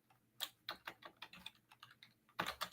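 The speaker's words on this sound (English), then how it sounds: "I'm tired of typing that" Someone types steadily on a computer keyboard, fast clusters of close, crisp keystrokes with a brief lull before a final burst, and no talking.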